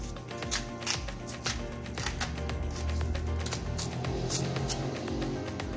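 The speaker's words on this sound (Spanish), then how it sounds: "Y con el mismo cuchillo me ayudo para ir abriendo la piel del plátano verde. Una vez que hice esto, puedo tranquilamente pelar." Green plantain skin being pried open and peeled by hand after a knife scores it, heard close up as a steady run of crisp tearing and crackling snaps over faint background hum.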